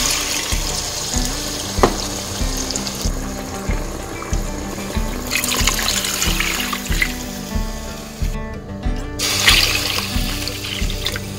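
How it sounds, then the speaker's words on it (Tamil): Water is poured from a tumbler into a cooking pot holding rice for chicken biryani, three tumblers in all. It makes a steady, close splashing trickle with brief breaks between pours, and no one speaks. "அதனால நான் வந்து மொத்தமே 3 டம்ளர் தண்ணி ஊற்றுறேன்."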